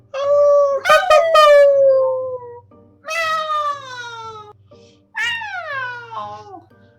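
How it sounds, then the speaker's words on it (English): Long wavering howls rise and fall in three drawn-out calls, loud and close rather than distant, with a low steady hum beneath. "her concentration was disrupted by the sound of distant howling"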